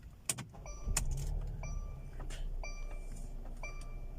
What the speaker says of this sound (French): On va démarrer la voiture maintenant.